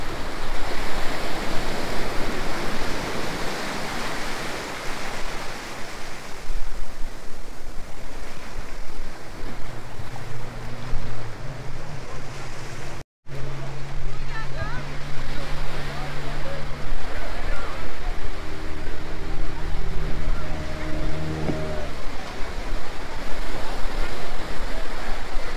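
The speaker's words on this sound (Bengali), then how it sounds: "পিছনে সমুদ্র, এখন প্রচুর জোয়ার টাইপ জল এসছে" Sea waves at Vagator beach in North Goa during high tide, a steady broad wash of surf running throughout, loud and close, with a brief dropout midway and faint voices mixed in.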